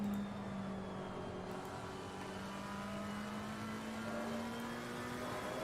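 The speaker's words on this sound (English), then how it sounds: "now the cars accelerate their way down, hanger straight" Race cars in a GT World Challenge Asia esports race at Silverstone accelerate down the Hangar Straight, a continuous rising engine whine with several overlapping engine notes climbing in pitch, steady and fairly distant.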